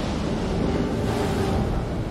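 Water rushes in the horror game Man of Medan as a steady, dense roar, like surging sea and wind, continuous and close with no voices over it.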